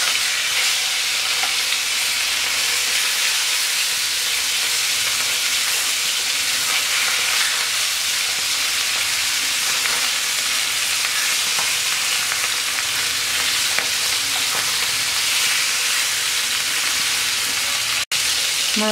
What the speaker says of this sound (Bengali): তেলটা গরম হয়ে গেছে, মাছ দিয়ে দিচ্ছি।